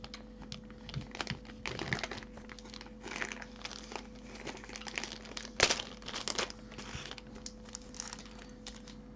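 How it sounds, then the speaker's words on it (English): A Ziploc bag crinkles and rustles as it is handled and opened during a trading card box break, with steady crisp crackling and a few sharper crunches throughout. "Oh, it's a Ziploc bag."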